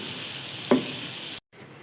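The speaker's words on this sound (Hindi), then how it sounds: "इसको हल्का सा हम फ्राई करेंगे" Onions frying with ginger garlic paste in hot oil, a dense steady sizzle with a brief stirring scrape, close by, cutting out abruptly near the end.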